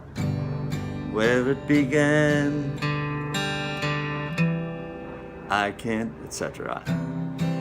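Strummed guitar chords from a song's riff ring under a person singing, the notes sustained and steady with brief pauses between phrases.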